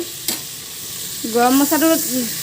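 Close sizzling of vegetables frying in a pan with a sharp tap, then scraping, squeaky stirring strokes as they are moved around, growing louder toward the end.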